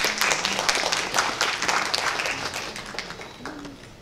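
An audience at a Korean leisure movement vision ceremony claps for an honoree, a moderately loud burst of individual hand claps that thins out, with a faint voice briefly audible near the end.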